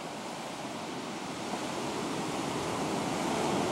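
Waves of the Mediterranean Sea wash steadily onto the shore, a continuous broad surf roar with gentle swells in intensity, heard alone without voices.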